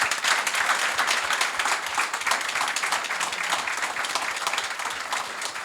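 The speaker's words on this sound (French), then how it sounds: "Est-ce qu'on peut les applaudir?" Audience applause at a women's day webinar event on logistics and industry leaders: dense, steady clapping from a crowd, loud and continuous throughout, with no voices over it.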